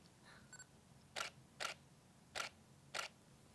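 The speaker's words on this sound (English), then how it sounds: "That really soft, soft shutter click." Four soft, crisp shutter clicks from a Nikon D810 DSLR camera body, spaced about half a second apart and fairly close, each a short muffled snap, with faint small handling ticks just before and no talking.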